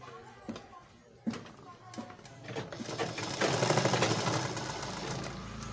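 Sewing machine stitching through a folded fabric corner, a dense steady mechanical whir building after a few soft taps and handling knocks, moderately close.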